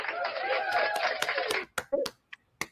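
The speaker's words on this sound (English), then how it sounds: "Let's give her the clap." An audience claps for a participant in a steady burst of applause that breaks off into a few scattered claps, with soft chuckles mixed in.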